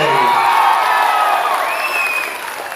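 A large outdoor crowd cheers and whoops at a Rahul Gandhi welcome rally in the Andaman and Nicobar Islands. The cheering is loud and sustained, with scattered shouts and a whistle-like whoop rising above it before it eases slightly.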